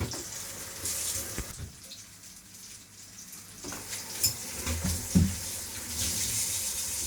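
Tap water runs into a kitchen sink while something is rinsed under it, a soft splashing hiss that dips and swells with a few clunks and knocks, close and fairly quiet.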